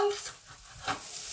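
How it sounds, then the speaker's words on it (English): Meat medallions and onion frying in a pan, a soft steady sizzle with a brief louder burst as the food is stirred, heard close with no talk. "while that's frying up"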